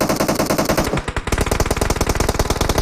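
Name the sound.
gunfire from PUBG Mobile video game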